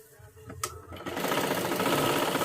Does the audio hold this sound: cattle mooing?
no